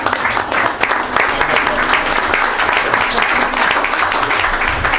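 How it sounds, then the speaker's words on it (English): Sustained round of applause at a Hamilton city council meeting honoring hydroelectric plant workers, dense steady clapping from a room full of people for about five seconds, loud and close. "If we could just keep the round of applause going for all of our winners."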